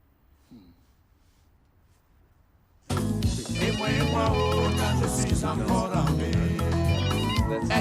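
A telephone rings loudly and insistently after a few seconds of near silence, its ringing carrying on steadily to the end, with a brief faint noise early on.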